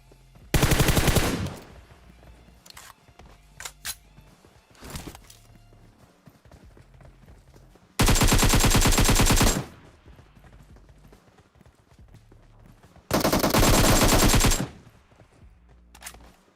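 Three loud bursts of rapid automatic gunfire in PUBG Mobile, each lasting about a second and a half, separated by quieter footsteps and faint in-game movement sounds.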